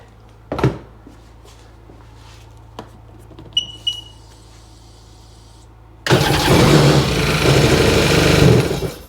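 A 2002 Sea-Doo GTX DI, with a few clicks and brief cranking attempts, then the engine catches and runs loudly for about three seconds before it bogs out and stops.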